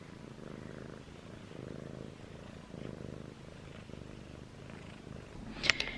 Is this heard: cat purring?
yes